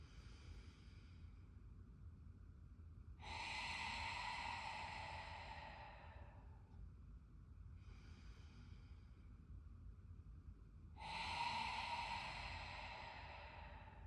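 Two long open-mouth exhales with a breathy ha sound, close and soft, separated by two shorter, fainter breaths during ujjayi practice, with no talking.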